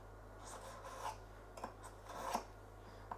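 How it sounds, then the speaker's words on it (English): A kitchen knife is being sharpened in a home kitchen, with several short rasping strokes, some louder than others, heard close up with no talking. "Just sharpen my knife."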